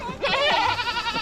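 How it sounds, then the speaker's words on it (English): Goats bleating at Kolmården Wildlife Park, a single loud, close, wavering bleat lasting about a second. "Look, there's so many goats."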